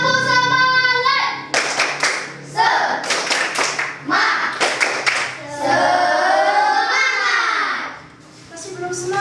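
A classroom clapping chant, tepuk semangat, led by a teacher: children's voices and rhythmic hand claps in quick patterned bursts, loud and close, with chanting running throughout.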